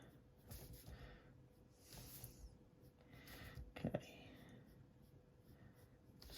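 Pencil sketching a McLaren Senna hypercar on paper, soft scratchy strokes in short bursts, close and faint, with a quiet voice murmuring now and then.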